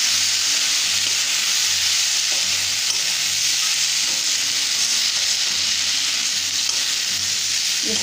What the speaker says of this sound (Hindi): थोड़ा थोड़ा बेसन देंगे और मिलाते जाएंगे।